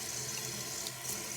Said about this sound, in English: more water coming out of the tap